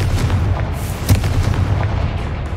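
Confringo fire spell from the Hogwarts Legacy video game bursting in a loud, close boom over a rumbling low-end background, with a sharp crack near the middle of the blast.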